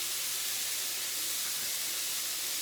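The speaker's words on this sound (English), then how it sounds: "Browning the ground beef." Ground beef browns in a pan still hot from frying potatoes, giving a steady, loud, even hiss of sizzling meat that holds without a break and with no talk.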